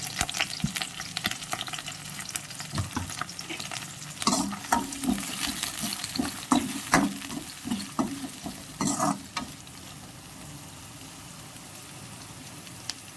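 Mustard seeds, chopped onions and curry leaves sizzle in hot oil for a home-style curry, a busy crackling fry with scraping stirs and spits that fades to a quieter hiss near the end.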